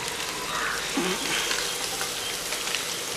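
Onions sizzle loudly in hot oil for a beef fry, a dense steady crackle with occasional stirring scrapes.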